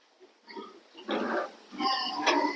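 Piglets grunt and snuffle close by, a few rough bursts growing louder toward the end, with no talking.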